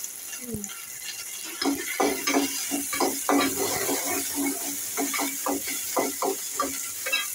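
Onion, green chili and curry leaves frying in a pan for onion rice, a steady sizzle with rhythmic scraping and stirring strokes, close and fairly loud, no voices.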